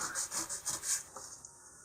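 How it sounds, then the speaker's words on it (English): A model rocket part is rubbed back and forth on sandpaper laid on a flat surface, making quiet, close rasping strokes in a quick rhythm of about five passes, followed by a few softer scrapes. "I'm going to put the sandpaper on a flat surface, and then just going to rock this back and forth as I move it over the sandpaper"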